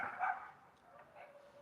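Puppies yip and bark a couple of times on a windy day, brief and somewhat distant, then quieter whimpering sounds follow.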